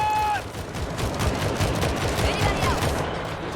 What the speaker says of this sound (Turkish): Aldım M4A1 tarıyorum valla.